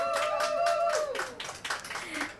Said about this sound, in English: Can we just get a big round of applause for that?